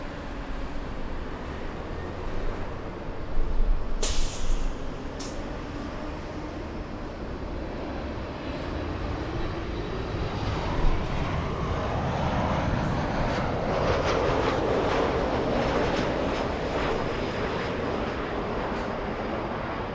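Lufthansa flight 457, an airliner, takes off at LAX, its jet engines a broad distant roar that builds gradually and holds steady, with a few sharp clicks early on and no talking.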